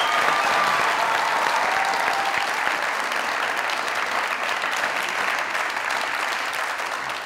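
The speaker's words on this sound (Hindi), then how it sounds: "मैं पूरे हॉल से कहूंगा कि एक दफा जोरदार ताली" A hall audience at a Mazaq Raat comedy show bursts into loud, dense applause that holds steady for the full stretch, with no voices over it.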